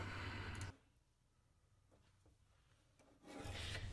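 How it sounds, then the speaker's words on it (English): Wooden shelf edges being rounded over by hand with a rasp or sandpaper: loud, dense rubbing strokes open and close the moment, with a quieter stretch of faint scraping in between. "Then I'll spend a minute rounding over all of the edges which will protrude into the cabinet in order to make them smooth."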